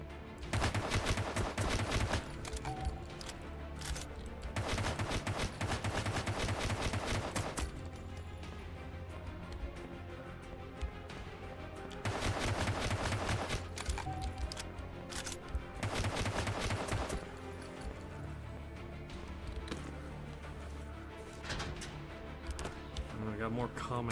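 Automatic rifle gunfire rings out in a shooter video game, coming in long rapid bursts with short pauses between them. A loud game soundscape sits under the shots.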